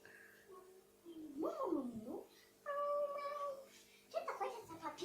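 A young girl imitates a kitten, giving a few drawn-out, whiny meow-like calls separated by short pauses, close to the microphone, with some quiet talking between them.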